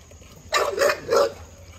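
A dog barks three times in quick succession, loud and close, with quiet background noise before and after.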